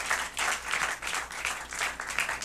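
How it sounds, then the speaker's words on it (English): A round of applause for three contestants at an oratory competition, steady dense clapping at moderate volume with pulsing swells, no voices over it. "a round of applause again"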